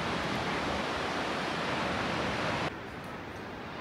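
A mountain river flowing far below a steep hillside trail, a loud, continuous broadband rush that drops abruptly to a quieter, steady roar partway through.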